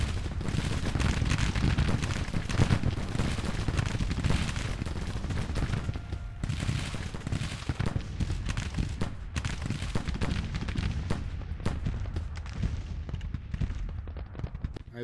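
Heavy battle din from a Grand Tactician Civil War campaign game, with dense, continuous gunfire and booming artillery rolling without pause for the whole stretch, loud and layered, with no voices over it.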